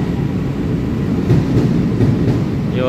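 A new E500 electric locomotive, painted gold, hauls six PP passenger cars on a test run out of Qidu, a steady close rumble of wheels on rails with faint rhythmic clatter, loud and continuous.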